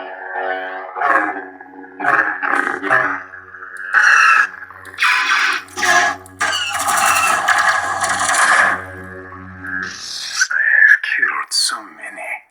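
A Warsabers Starkiller lightsaber with a Proffie board and an enclosed 28mm speaker plays loud humming, swinging whooshes and crackling clash effects up close, in bursts with short gaps.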